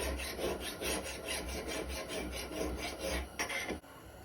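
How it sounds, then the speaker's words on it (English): An old ax blade is sharpened on a diamond stone in a close, steady run of rhythmic rasping strokes, about a dozen back-and-forth passes, ending in a brief pause. "And then we're going to hit it with a diamond stone."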